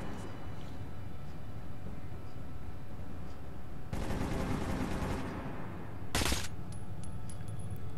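Gunshots in the Metro shooter game, a burst of several seconds of rapid fire followed by one more short, sharp burst over a steady low background hum.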